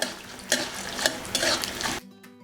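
Peanuts dry-roasting in a pan for raw mango poha, a steady close sizzle with a few sharp scrapes and stirs, then a sudden drop to near silence at the end.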